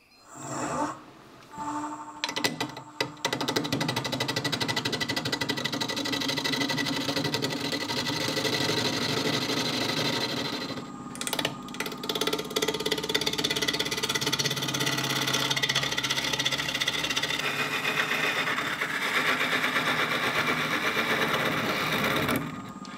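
A wood lathe turns a natural edge burl bowl while a tool hollows from the center outward, producing a loud, steady grinding whir and scraping that runs almost without a break after a few brief starts.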